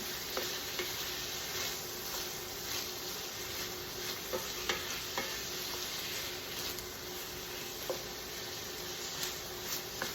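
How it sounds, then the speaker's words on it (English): Onions and chopped vegetables for sloppy joes cook down in a pan, giving a quiet, steady sizzle with occasional light ticks from stirring, no voices. "You're going to let this, cook these veggies down for about 5 minutes or so. Just let them get nice and, the onions translucent."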